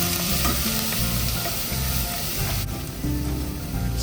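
Garlic frying in cooking oil for Filipino cheesy baked spaghetti, a steady close sizzle with stirring scrapes and clinks running throughout, loud and continuous with no talking.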